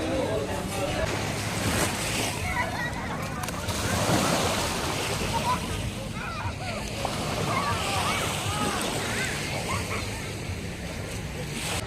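Sea waves wash onto a beach on Phi Phi Don Island, a loud, continuous broadband surf rush with swelling surges, heard alone for the whole stretch.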